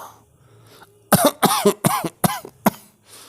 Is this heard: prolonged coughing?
yes